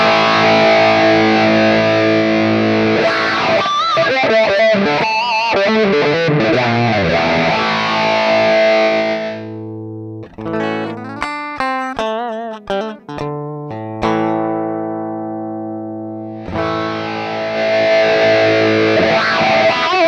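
Guitar played through a Positive Grid RIFF audio interface in Direct Mode, the clean direct signal blended into an effected tone: sustained chords ring out, a pause, then a run of picked single notes, then chords again, loud and up close.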